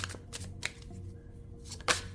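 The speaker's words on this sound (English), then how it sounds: "Overhand shuffle a bit." Soft, close overhand shuffling of tarot cards, a few quick papery riffles and taps spaced out, with no talking.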